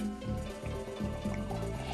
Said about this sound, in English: Pour a small amount of wine for yourself.